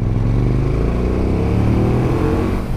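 KTM 1290 Super Duke GT motorcycle engine from 2019 lugging at about 2,000 revs in third gear, a deep, steady, chuggy throb with strong low rumble and a slightly uneven beat, close and continuous.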